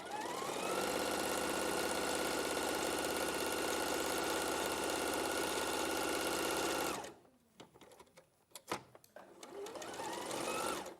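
Sewing machine stitching a quarter-inch seam runs loud and steady at a constant whirring hum for about seven seconds, then stops, leaving faint handling clicks and rustles before a brief soft whir near the end.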